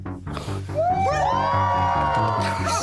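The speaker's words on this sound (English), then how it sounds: "Boss, there's a crowd." A crowd cheers and whoops in an animated cartoon scene, loud voices rising together over a brief musical backing.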